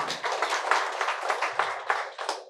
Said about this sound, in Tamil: எல்லா ஆசிரியருக்கும் புதுவிடை ஐயா அவர்களுக்கும் மூர்த்தி ஐயாவுக்கும் பெரிய ஒரு கைத்தட்டல் கொடுத்துருவோம்